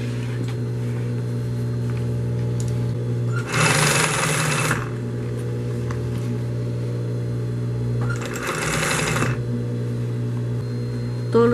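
A sewing machine stitches the side seam of a men's shoulder bag in two loud bursts of rapid whirring, each about a second long, over a steady electrical hum and with no talking.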